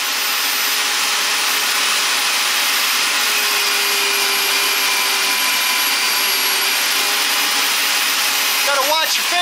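A homemade powered bead roller built from a Harbor Freight pipe threader runs continuously with a steady, loud motor whine and broadband grinding, ending in a brief clatter.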